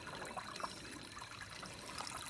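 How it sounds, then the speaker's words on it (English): Spring water trickles out of a hillside in Leonardtown, Maryland, a faint, continuous babbling flow with small splashy bursts, soft and steady with no voices. "here's the water coming out of the side of the hill, so I imagine that's a spring"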